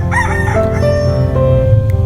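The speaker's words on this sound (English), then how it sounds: "The cock is crowing." A rooster crows a full cock-a-doodle-doo, loud and close, its harmonic call rising then holding in a long drawn-out note, with no talking over it.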